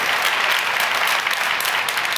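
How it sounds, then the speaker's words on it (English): An audience at a Keller Williams company event claps on cue, a dense, loud burst of applause that fills the short moment without any voices. "yeah, you need to clap."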